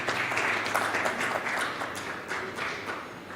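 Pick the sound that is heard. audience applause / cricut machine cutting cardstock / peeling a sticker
audience applause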